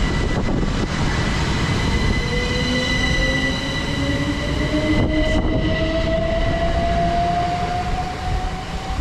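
Class 377 electric train 377435 pulls out of Aldrington station in West Hove, with a loud, steady rolling rumble and rising whining motor tones that climb in pitch as it gathers speed.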